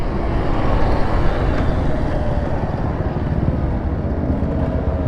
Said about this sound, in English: Is that a DRZ?